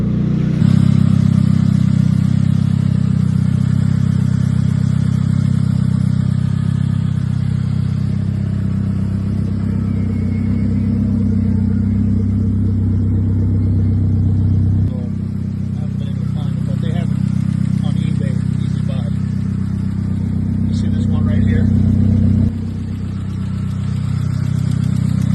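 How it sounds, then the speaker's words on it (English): A rare Saab 9-3 Viggen engine idles steadily after ten minutes of running, with a faint ticking from the top of the motor, a constant mid-pitched drone close by and a brief dip in level partway. "I'm going to try to show you a before clip of the engine sound."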